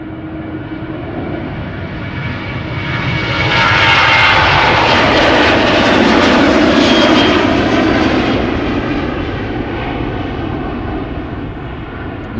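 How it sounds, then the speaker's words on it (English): A KLM Boeing 737-800 jet departs, its engine roar building loudly to a broad peak mid-clip and then slowly fading as it climbs away, steady and continuous with no voices. "KLM flight 1167 outbound to Helsinki, Finland. 737-800."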